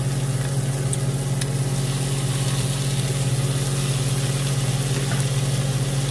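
Tofu hitting a hot pan and frying with a loud, steady sizzle, joined by a constant low hum like a stove hood or nearby engine, with no talking.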